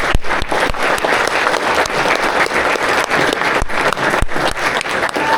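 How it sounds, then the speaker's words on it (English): Steady applause from an audience at a fan festival baseball Q&A with team prospects, dense clapping sustained and fairly loud throughout with a few sharper individual claps standing out. "How about a round of applause for everyone?"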